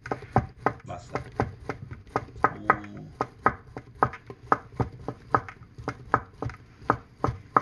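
A knife chops imitation crab sticks into chunky pieces on a cutting board, a close, steady run of sharp taps at a quick, fairly even rhythm.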